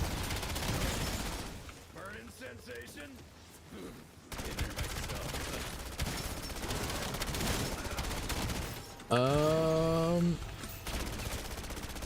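Gunfire rattles in a Call of Duty Zombies match, with repeated bursts from the same weapon and a few sharp in-game effects, heard under casual talk between players.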